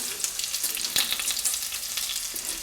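Bacon fries in a non-stick pan with a constant loud crackling sizzle, and a brief scrape and knock as a strip is flipped over; no voices.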